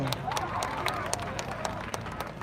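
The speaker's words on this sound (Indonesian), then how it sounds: "tepuk tangan yang meriah sekali lagi untuk Banjar Bengkel" Audience applause for Banjar Bengkel at a Baleganjur music competition in Ubud Kelod, Gianyar, with dense, sharp clapping from a nearby crowd under a murmur of voices, steady for the whole stretch.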